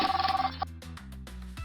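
A telephone rings in a döner shop video game, a quick repeated electronic ring that cuts off after about half a second, followed by soft game music.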